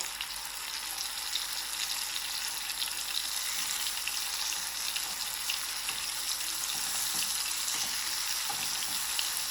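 Eggs fry and brown in a pan on low flame, a steady, close, broadband sizzle and crackle running unbroken throughout with no talking.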